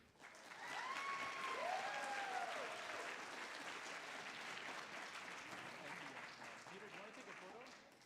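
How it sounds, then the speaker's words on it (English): An audience at a hackathon closing ceremony claps in a sustained round of applause that swells early and then gradually thins, with a few whistles rising above the crowd. "Can we get a round of applause for Aki?"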